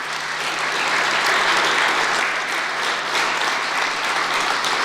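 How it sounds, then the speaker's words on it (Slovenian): An audience at a municipal awards ceremony in Ravne na Koroškem gives sustained, even applause that fills the hall as a flute quartet of four flutists is welcomed. "Prosimo, pozdravimo jih z aplavzom."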